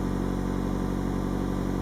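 A steady, low car engine rumble running continuously at idle, close and unchanging, with a newly fitted oxygen sensor; no voices.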